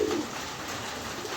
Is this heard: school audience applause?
no